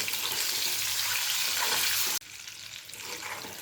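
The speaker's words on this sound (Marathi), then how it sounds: "हे जे अंडे आहेत ते फक्त फ्राय करून घ्यायचे आहेत" Eggs frying in a pan while being made into egg curry, a steady loud sizzle that drops slightly in level partway through, with no talking.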